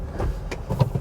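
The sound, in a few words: Honda Amaze car running on CNG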